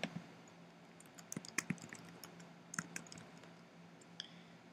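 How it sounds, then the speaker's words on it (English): Quiet, irregular typing on a computer keyboard, scattered soft key clicks in short bursts and pauses, heard close up with no talk. "I'm just typing here."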